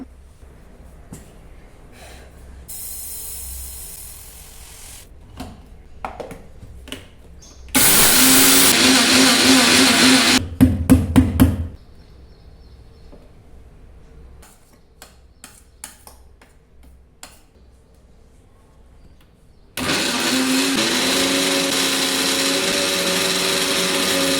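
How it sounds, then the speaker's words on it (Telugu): A mixer grinder grinds finger millet (ragi) into flour in two loud, steady whirring bursts, a few seconds long and about ten seconds apart. Between them come quieter clicks and handling knocks. "మిక్సీకి వేస్తే అంత ఫైన్ పౌడర్ ఏం రావట్లేదు"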